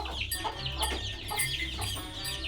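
Village chickens cluck in repeated short bursts, fairly faint and a little distant, over a low steady background rumble.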